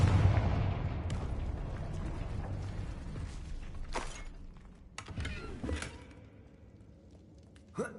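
Confringo fire-spell blasts in the Hogwarts Legacy video game: a rumbling opening followed by several sharp explosive bursts and crackling impacts spaced a second or two apart, with a final sudden hit near the end.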